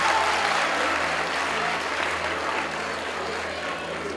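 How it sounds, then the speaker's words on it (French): An audience at a youth film awards ceremony applauds loudly and steadily, a dense wash of clapping with little talk, fading slightly toward the end. "Alors on applaudit très très fort."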